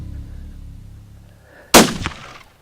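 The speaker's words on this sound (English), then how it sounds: "If you get a broadside shot" A single loud rifle shot at a pronghorn antelope during a hunt, an abrupt close crack with a short echoing tail after a quiet wait.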